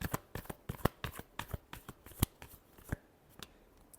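Tarot cards riffled and shuffled in a run of quick, crisp flicks and taps close by, with a few sharper snaps among them and no talking.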